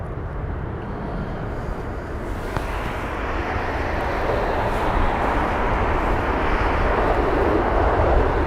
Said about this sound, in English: Then we'll have the Swiss 320 Neo.